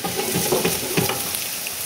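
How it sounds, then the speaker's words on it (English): Yukon Gold potatoes dropped into a hot soup pot, a dense continuous sizzle with a few soft knocks and thumps as the pieces land. "Then I'm going to take my Yukon Gold potatoes. I'll put them right in there."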